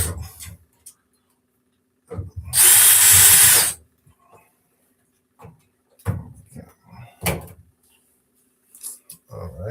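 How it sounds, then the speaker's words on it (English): A power drill drives screws into the door of an LG dryer: one loud, steady whir lasting about a second, surrounded by quieter clicks, handling noises and brief tool sounds. "then finish it with a power drill"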